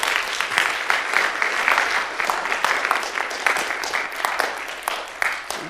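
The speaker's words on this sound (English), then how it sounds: "Give her a round of applause." Audience applause fills the room, steady dense clapping from many hands at close range, holding at an even level with no talk over it.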